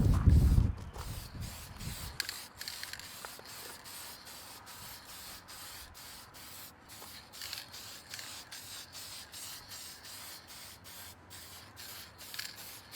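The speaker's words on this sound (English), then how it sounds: "we're going to give this guy a light coat of paint" Aerosol spray can applying Honda Cloud Silver paint to a Honda CT70 wheel hub, a steady hissing spray in long continuous bursts close to the microphone after a brief thump at the start, with no talking.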